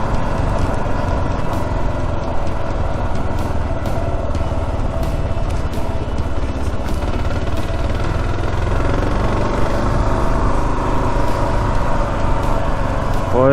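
Motorcycle riding along a dirt road at altitude, a steady loud engine drone with constant rumble and wind, unbroken throughout.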